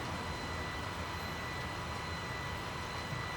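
A powerful tractor engine in Farming Simulator 19 drones at a steady, continuous roar with a constant whine, holding an even loudness throughout with no talking.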